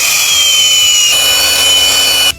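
An angle grinder cutting through a horse hoof for a northeastern Chinese horse-skin jelly dish: a loud, steady high-pitched whine of the disc biting into the hoof, continuous for about two seconds, then stopping abruptly.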